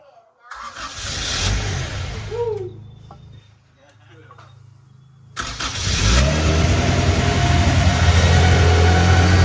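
A turbo Honda Civic engine cranks over with the distributor unplugged so it won't fire, priming oil; a starter whirs in bursts with a lull between, then a steadier loud mechanical drone, with a voice talking over parts.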